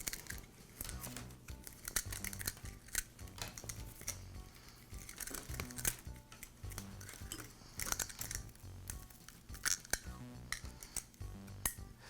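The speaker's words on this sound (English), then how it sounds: "I'll unwind the line." Trimmer line unwound by hand from an old Troy-Bilt trimmer's inner spool, giving close, continuous plastic crinkling and rustling with scattered small clicks and scrapes, no voices.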